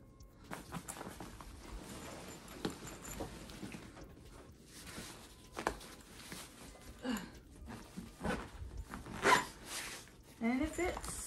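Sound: backpack zipper being zipped while packing

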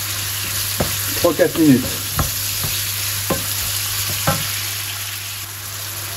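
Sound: onions sautéing in extra virgin olive oil

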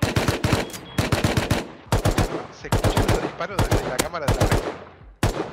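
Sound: gunshots in a video game

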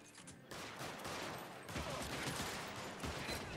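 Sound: gunfire from the video game LA Noire

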